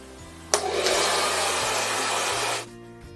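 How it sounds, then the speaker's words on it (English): A blow dryer fitted with a directing nozzle switches on and blows a loud, steady rushing roar for about two seconds while drying hair at home, then cuts off, leaving a faint hum. "You'll notice I do keep a nozzle on the end of my blow dryer, which is for directing the airflow"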